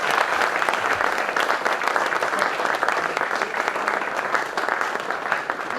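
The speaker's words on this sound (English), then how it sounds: "can we have a huge round of applause for him?" Loud, continuous applause from a workshop audience at the Mumbai International Film Festival, a dense even patter of many hands clapping close by.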